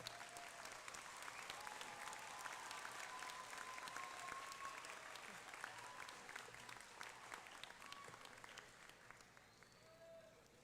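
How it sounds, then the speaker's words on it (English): A crowd at the Vineland High School moving-up ceremony applauds honor students, seniors and juniors, a thick, continuous roar of clapping that stays strong for about ten seconds before easing slightly. "Let's give our honor students and our seniors and our juniors a big round of applause."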